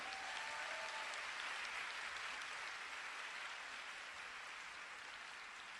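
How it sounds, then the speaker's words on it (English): Steady, even applause from an audience for a speaker at a conference talk, a continuous wash of many hands clapping at moderate distance with no voices over it. "Can we give New Skin a big round of applause?"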